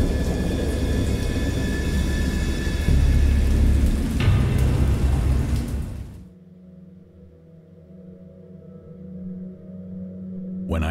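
A rainstorm in the game Dagon roars steadily with a deep thunder rumble, then cuts off abruptly, leaving a low hollow drone.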